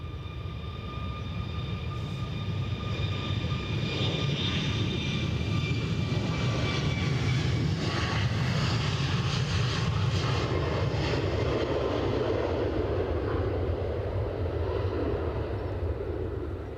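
An airliner departs Edinburgh airport, its jet engines a steady roar with a faint whine that swells midway and then eases slightly as the aircraft climbs away at a distance.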